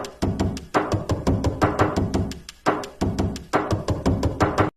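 A drum kit built from Minecraft door sounds, tuned as an 808 with boosted bass and reverb, plays a steady looping beat of punchy, close hits in a quick repeating pattern.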